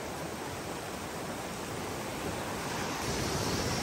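A village stream in Nepal rushing past, a steady broadband roar of flowing water that fills the whole stretch, close and constant, growing slightly louder near the end, with no talking.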